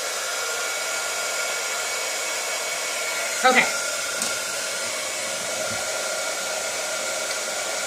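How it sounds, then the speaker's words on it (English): A heat embossing tool blows hot air in a steady, loud, broadband whoosh that runs unbroken the whole time, with a single short spoken word briefly over it. "Then we're going to grab our heating tool. Make sure it's nice and warmed up."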